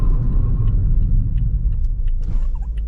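A 2018 Toyota Yaris 1.5 CVT TRD Sportivo brakes hard from 80 km/h, giving a loud, steady low road rumble with a faint higher squeal near the end. No one speaks.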